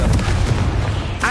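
Confringo spell blasts in Hogwarts Legacy as a sharp booming explosion, loud and close, followed by a brief magical whoosh at the end.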